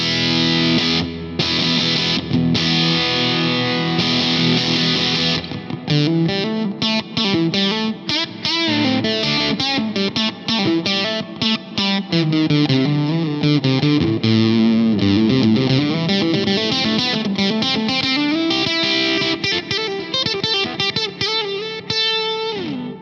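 Electric guitar run through a fuzz pedal into a Helix digital amp model, playing thick, saturated riffs and sustained chords with a chorus-like shimmer, loud and continuous throughout with no talking.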